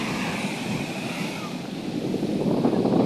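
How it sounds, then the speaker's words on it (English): Atlantic Ocean waves and wind along the African coast make a steady, loud broadband wash of surf, with wind buffeting the microphone and swelling slightly toward the end. "The African view of the Atlantic Ocean."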